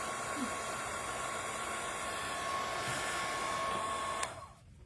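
Heat tool gently drying distress ink, giving a steady whirring blower hum with a faint high tone that runs evenly, then cuts off abruptly near the end.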